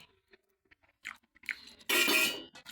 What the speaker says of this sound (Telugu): శామ ఉప్మాలోకి బెండకాయ అన్నం తింటున్నాను.